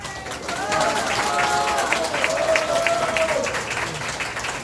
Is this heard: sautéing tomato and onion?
no